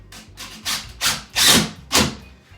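A screw being tapped with a hammer through cement board (Perma Base) for a bathroom remodel: five sharp, fairly close knocks spaced about half a second apart, growing louder toward the end.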